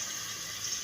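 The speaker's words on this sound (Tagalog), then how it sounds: "ibuhos natin ang tuyo para may kasabaw-sabaw siya." Fish broth poured into a pan while cooking adobong sitaw, a steady close splashing liquid stream, brief and continuous.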